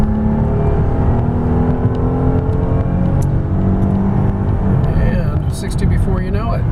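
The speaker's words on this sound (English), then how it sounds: "We'll go up a hill with the air conditioning blasting, putting maximum load on the vehicle, see how fast we can get from 0 to 60." A 2003 Mercedes-Benz E320 climbs a hill from a standstill toward 60 mph with the air conditioning running, its engine drone rising steadily in pitch under strong throttle, loud and close inside the cabin.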